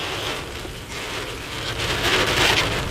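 Heavy rain falling in Junnar and Maval, Maharashtra, as a dense, continuous hiss of drops on surfaces that swells louder toward the end, with no voices.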